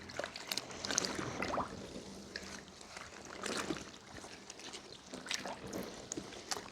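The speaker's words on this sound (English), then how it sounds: "Now we'll just give it a rinse in the cool water." Soft sloshing and trickling as a suit is rinsed by hand in cool water, gentle splashes and pouring, close but quiet, with no talk.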